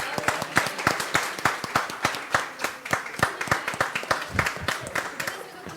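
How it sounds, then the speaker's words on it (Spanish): Applause at an author's talk about his book, a close, rhythmic run of individual hand claps from a modest audience, fairly loud and steady throughout. "Un aplauso, por favor."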